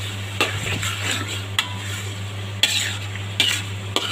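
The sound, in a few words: stirring raw mango pickle in a pan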